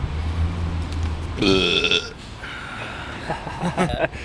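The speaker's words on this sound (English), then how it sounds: "Random burp for the win." A single loud, close burp from a person, a drawn-out guttural belch lasting about half a second, with a second rougher belch-like sound and some background noise after it.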